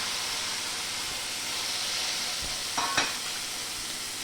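Cucumber chutney ingredients with turmeric, green chillies, coriander and curry leaves fry in a pan, a steady close hissing sizzle, with a couple of brief scraping stirs near the end.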